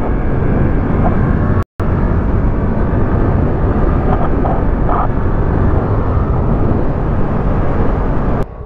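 A Suzuki GSX-8R motorcycle rides hard through curves, with loud, constant engine and wind roar close by and a brief dropout.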